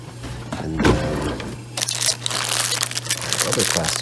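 Plastic bags handled and crinkled in a drawer, crackling and rustling close by in bursts, with a person talking over it and a low steady hum underneath.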